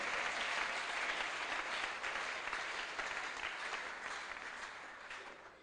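A church congregation claps in praise of the Lord, with steady, moderately loud applause running the whole time and tapering slightly toward the end, with no voices over it.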